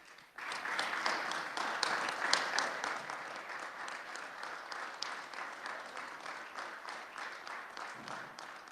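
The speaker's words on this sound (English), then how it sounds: "let's give them one more round of applause" Sustained applause fills the Senate chamber, beginning abruptly and continuing as dense, steady clapping from a large group of legislators and guests, moderately distant with no talking over it.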